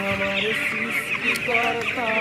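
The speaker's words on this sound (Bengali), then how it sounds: "ব্রয়লার মুরগির আজকের বয়স হচ্ছে 13 দিন।" Thirteen-day-old broiler chickens kept in a shed through cold winter weather, a dense flock cheeping and clucking nonstop at close range, with no voices.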